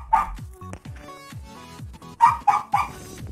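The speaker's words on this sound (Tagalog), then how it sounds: "Pasensya na po kayo sa ingay ng aso" A dog barks sharply several times close by, a burst at the start and three quick barks near the end, with soft thumps and shuffling between.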